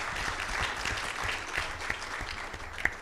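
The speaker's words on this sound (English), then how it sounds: "Please, another round of applause for the management." An audience at an annual general meeting claps for the management, a full, sustained round of applause with a few sharper individual claps standing out near the end.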